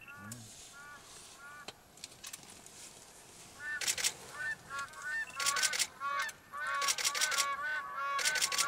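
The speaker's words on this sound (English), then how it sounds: "Yeah, it's all black crown cranes." Black crowned cranes calling at Regueik Pan in Zakouma, a flock giving loud, repeated honking calls that build from sparse cries into dense overlapping bursts, with faint background noise throughout.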